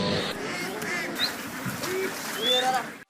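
Several ducks quack intermittently at moderate distance, with a voice speaking over them throughout.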